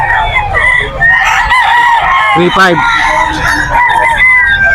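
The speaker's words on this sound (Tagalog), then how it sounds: "Boss, magkano yung mga manok mo rito?" Many roosters at a crowded dawn poultry market in Bocaue, Bulacan crow loudly and repeatedly, overlapping close and farther off amid clucks and crowd noise, while a person briefly speaks over the din.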